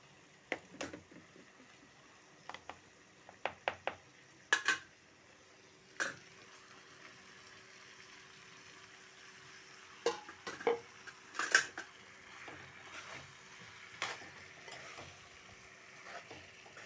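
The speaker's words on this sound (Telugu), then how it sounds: "ఆ చాప్ చేసుకున్న టమాటాలు వేసేసుకుందాం పీసెస్" Chopped tomatoes tipped into frying brinjal for a vankaya tomato curry and stirred: scattered soft clinks and scrapes of a spoon against the pan, quiet and close, with pauses between bursts.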